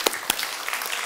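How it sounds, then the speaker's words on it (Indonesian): A church congregation at a Sunday service claps in praise, with a few sharp, close claps over a quieter spread of applause from the room, and no speech. "Berikan tepuk tangan untuk Tuhan Yesus."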